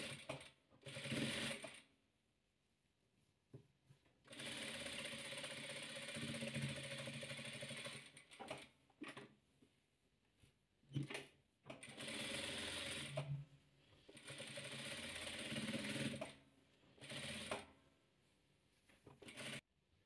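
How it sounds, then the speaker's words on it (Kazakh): A sewing machine stitches patchwork in repeated bursts, some long and some short, with quiet pauses in between. The whirring and clatter are close and moderately loud, and no one speaks. "Міне айналдыра тігіп шықтым."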